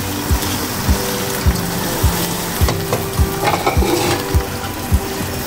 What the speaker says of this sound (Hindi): अदरक लहसुन के पेस्ट के साथ इसको चिकन को फ्राई करेंगे अच्छी तरीके से